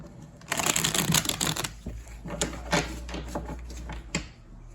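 Tarot cards are shuffled up close in a rapid riffle, followed by a series of sharper taps and flicks as the deck is handled.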